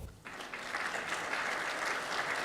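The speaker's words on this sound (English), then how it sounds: "she'll be glad to know that her video received such warm applause" Warm audience applause at a sustainable development goals summit in New Zealand, starting after a brief quiet moment and then holding steady, moderately loud in a large hall.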